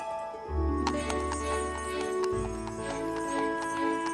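Hooves of a horse pulling a carriage in India clip-clop in a steady, close rhythm, with a faint tonal background beneath the hoofbeats.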